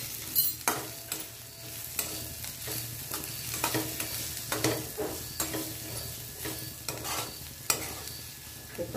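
Turmeric and red chili powder are stirred in a hot frying pan for a dal and onion curry, with a soft sizzle broken by repeated scraping spoon strokes at an uneven rhythm and no talking.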